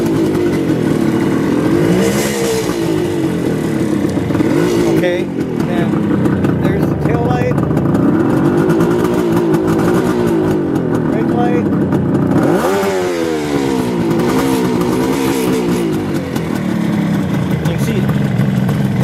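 A 1975 Kawasaki 500 H1 two-stroke triple motorcycle engine idles loudly and steadily nearby at about 1400 RPM, its pitch wavering and rising in brief blips, while someone talks over it.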